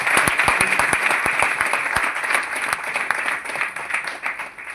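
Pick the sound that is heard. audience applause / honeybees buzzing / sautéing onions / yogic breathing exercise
audience applause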